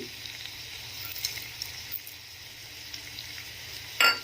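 Chopped tomatoes with salt sizzle quietly in a pan, a faint steady hiss with a few soft crackles and a sharper clatter at the very end.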